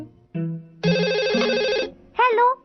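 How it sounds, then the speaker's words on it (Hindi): A telephone rings in a Hindi-dubbed Doraemon cartoon episode, sounding as a series of synthetic electronic tones in stepped bursts, ending with a short rising chirp. "जाकर फोन उठाओ।"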